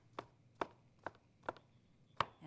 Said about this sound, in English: I'm going to just finish chopping these mushrooms